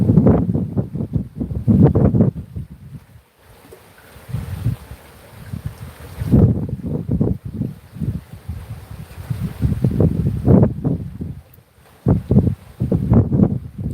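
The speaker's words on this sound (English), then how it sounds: "Man, that wind is just really picking up too." Strong outdoor wind gusting and buffeting a microphone in loud, rumbling surges with brief lulls, close and rough throughout.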